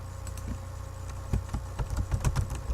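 A computer keyboard being typed on to enter a terminal command, with quick light clicks of the keys that bunch into a denser burst toward the end, close and fairly quiet with no voice.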